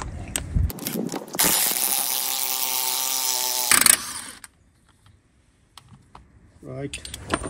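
A wrench or impact tool works a wheel nut loose on a Peugeot 107 during a clutch replacement, giving a loud sustained burst of a few seconds with sharp metallic clicks and clinks before and after, then quiet.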